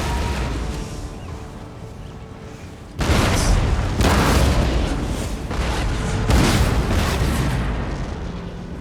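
Heavy cannon fire from a battery in Empire: Total War, with a sudden loud boom followed by several more rolling blasts over a low battlefield rumble.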